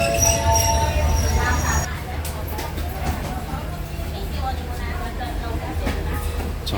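A train rumbles and screeches as it rolls into a station in Southeast Asia, wheels squealing with high-pitched metallic whines over a low, continuous rattling hum.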